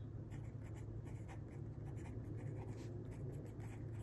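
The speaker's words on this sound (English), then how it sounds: "I want to write on here accordion fold" Pen moves across paper in an accordion-fold journal, soft scratchy strokes in short bursts over a steady low background hum.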